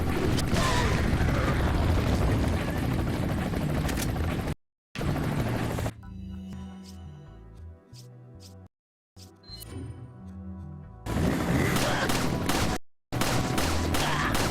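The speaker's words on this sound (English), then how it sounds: "I guess grenade is my one good option here" Video game explosions and gunfire: loud booming blasts and rattling shots open the clip, then a quieter stretch of sparse mechanical clicks and thuds, before heavy blasts return near the end.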